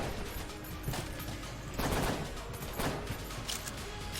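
Steady rapid gunfire from the twin-stick dungeon shooter Enter the Gungeon, a dense unbroken rattle of game shots with louder bursts swelling around the middle, no voices over it.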